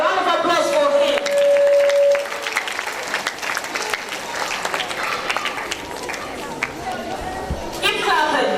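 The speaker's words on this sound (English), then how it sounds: "A round of applause for him." An audience claps at the official launch of Nigeria's Space Ambassador Scheme, with a clear burst of applause over a held tone at the start, then thinner scattered clapping with crowd chatter and some talk over it.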